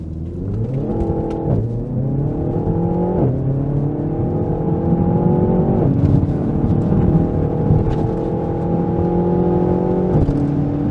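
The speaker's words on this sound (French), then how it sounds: "tu gardes ton pied sur l'accélérateur, juste tu regardes devant, tu passes les vitesses quand il faut, ça monte quoi, elle s'essouffle pas." Renault Mégane 4 RS Ultime accelerating hard through the gears, engine note climbing in steady rising sweeps with sharp drops at each upshift, loud and close, heard alone without talk.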